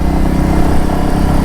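A Royal Enfield motorcycle engine runs steadily at close range, a loud, even, low thumping idle that holds for a brief moment with no voices.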